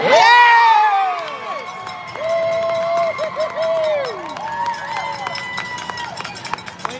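A youth hockey crowd at a Kanata Blazers versus Copper Cliff Reds game roars and whoops after a goal, loud at first and then trailing into scattered shouts and whistles.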